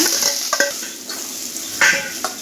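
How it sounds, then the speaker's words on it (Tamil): Onion goes into hot oil with popping mustard seeds and cumin for a fish dish, giving a loud, steady close sizzle broken by a few scraping stirs of a spoon in the pan. "கடுகு பொரிஞ்சதும் இப்போ வெங்காயம் போட்டுக்கலாங்க."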